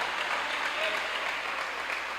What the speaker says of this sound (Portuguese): Pode aplaudir ao Senhor, pode aplaudir.